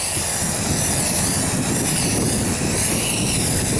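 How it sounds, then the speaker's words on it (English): Strong wind roars across the microphone in a dense, unbroken rumble and hiss, loud and close for the whole stretch, with no talk over it. "Wow, the wind is blowing"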